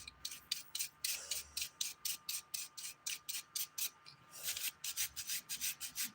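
A nail file rubbing back and forth underneath fingernails, a quick run of about twenty soft, regular scratchy strokes, close and faint.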